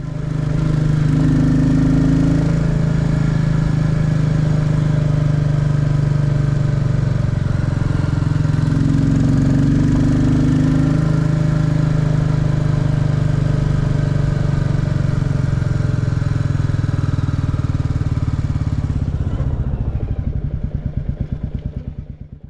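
A Royal Enfield Classic 350 motorcycle engine runs steadily at road speed in fourth gear on a winter ride, a loud close single-cylinder thrum with constant low pulsing and wind, then slowing and fading at the end.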